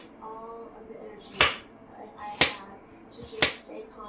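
A knife chops food into thin small slices on a board, three sharp, evenly spaced cuts about a second apart, close and distinct over a quiet background.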